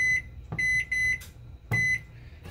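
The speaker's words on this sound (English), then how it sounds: "Let me set the timer again." A convection oven's timer is being set, sounding a run of bright electronic beeps in uneven bursts, some short and some held longer, loud and close with no speech.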